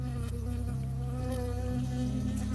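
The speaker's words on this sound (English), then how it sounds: "I got stung by a bee." A bee buzzes close and steady in the video game Firewatch, a continuous droning hum with slight wavering pitch, heard alone.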